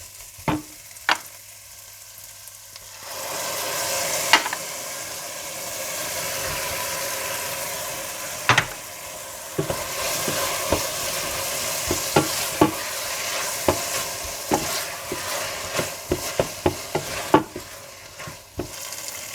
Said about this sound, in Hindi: थोड़ा सा भुनने के बाद इसमें आप इमली का पल्प और टमाटर डालकर मिला लें।